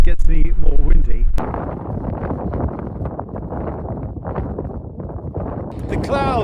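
Strong wind blows on an exposed mountainside at a wild camping spot, a loud, steady broadband rush with gusty buffeting against the microphone that lasts through the whole stretch.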